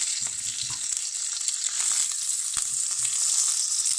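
Mustard seeds splutter in hot oil, sizzling and spitting steadily in the pan, with scattered small pops and crackles throughout.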